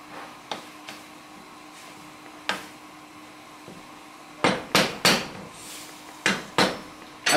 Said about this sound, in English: And here is the garlic. Give that a bit of a stir around.